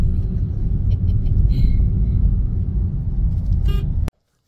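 A car drives through evening city traffic, heard from inside as a steady low engine and road rumble with faint distant horn toots, ending in an abrupt cutoff.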